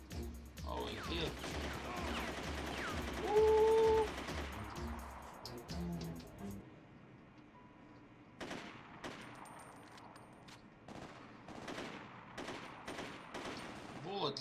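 Gunfire in The Getaway video game, dense bursts of shots crowding the first six seconds over game noise, then scattered sharper bangs and cracks further on, with talk mixed in.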